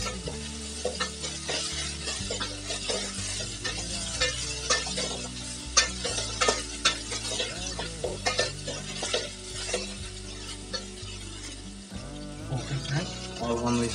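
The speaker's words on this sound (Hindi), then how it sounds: "आप आलू को बढ़िया से इसको चला दीजिए।" Potatoes and peas fry in a pan while being stirred, a steady sizzle with frequent scraping knocks of the spoon that carries on throughout, fairly loud and close.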